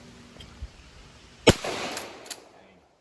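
A Winchester 1897 pump-action shotgun fires at clay targets outdoors: one sharp, loud blast with a decaying echo, followed by a faint mechanical clack, after a few quieter knocks.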